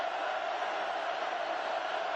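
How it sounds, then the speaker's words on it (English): Steady roar of a large crowd packed into a college football stadium during a Purdue at Oregon game, a continuous broad wash of noise with no breaks throughout. "Listen to the crowd."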